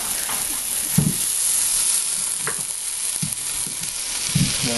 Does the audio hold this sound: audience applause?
no